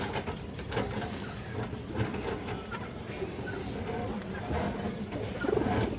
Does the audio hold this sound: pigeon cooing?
yes